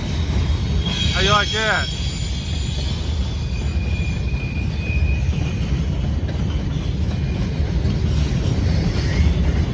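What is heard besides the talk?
Norfolk Southern freight trains on CSX track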